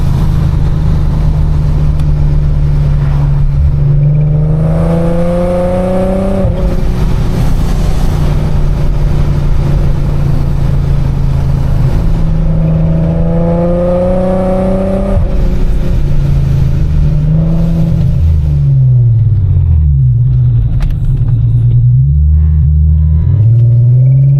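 A loud supercharged Infiniti G37x making over 600 wheel horsepower roars and revs up repeatedly, pitch climbing in long pulls with brief drops between, heard close and steady throughout.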